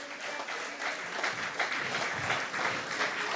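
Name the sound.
audience applause at a convention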